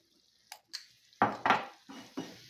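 A spoon clinks and scrapes against a pan while stirring hot oil with mint and chili flakes for a vegetable soup, several sharp metallic taps in quick irregular succession, close and clear.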